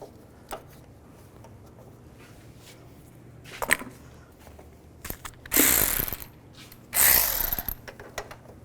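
A ratchet with a 15mm socket on an extension loosens the timing chain tensioner bolt on a 2010-2017 Chevy Equinox, giving sparse clicks and taps, then two louder bursts of rapid close-up ratcheting clatter.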